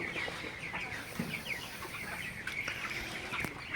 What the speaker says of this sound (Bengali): আপনারা দেখতে পাচ্ছেন মুরগিগুলো কীভাবে খাইতেছে